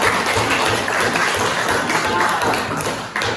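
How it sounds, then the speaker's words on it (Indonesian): Students in a classroom applaud a group after it finishes a math worksheet problem, a dense, steady burst of many hands clapping close by for about three seconds, with some voices mixed in. "Ya, tepuk tangan untuk kelompok ya."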